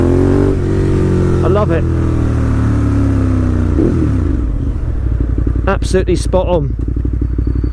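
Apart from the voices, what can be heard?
Ducati Monster 1200S motorcycle engine revving, loud exhaust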